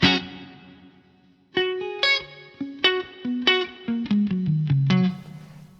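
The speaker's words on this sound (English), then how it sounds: "we've just got kind of that reverb" An electric guitar with a distorted tone runs through a large plate reverb on a Fractal unit: a ringing opening chord fades, then a string of plucked notes and chords follows, each with a long, washing reverb tail, and no talk.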